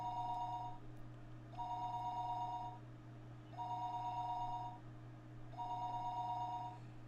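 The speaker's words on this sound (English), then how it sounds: "listening to the dial tone" A telephone ringback tone from the video game Higurashi When They Cry sounds four times in an even rhythm, each steady electronic ring lasting about a second, clear and alone over a low constant hum.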